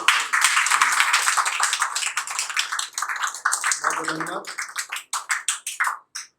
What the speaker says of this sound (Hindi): ताली भी आप उतनी बजाइए ताकि अच्छा लगे मुझे भी